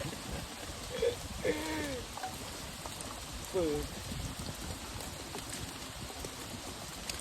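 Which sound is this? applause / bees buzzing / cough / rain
rain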